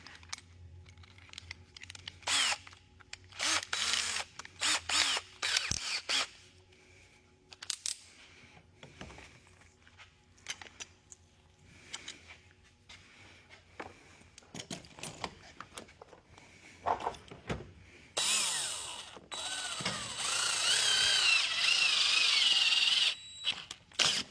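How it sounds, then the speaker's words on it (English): Short bursts of clicking and whirring from an electric drill tapping holes, stopping and starting, ending in a longer steady drilling whine. "we got an automatic tapping machine on hand, aka drill"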